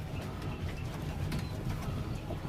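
Pigeons in a loft of high-flying Andhra and Malboy breeds give soft, low cooing that runs continuously at close range, with no talk over it.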